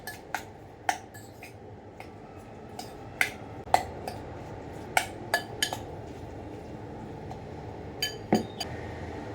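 A spoon or utensil mixes mashed avocado guacamole with salt in a bowl, giving repeated sharp clinks and taps against the bowl at an irregular pace, fairly close over a soft background hiss, with no talking.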